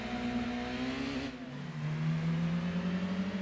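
A Lancia Y's engine in Gran Turismo 2 drones steadily, with a layered engine tone that dips briefly as if shifting gear, then settles into a constant hum at a slightly different pitch.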